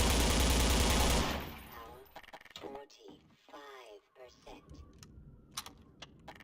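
An OICW rifle in the Half-Life 2 Beta mod fires a loud, dense burst that cuts off, followed by fainter clicks and mechanical handling sounds while someone talks.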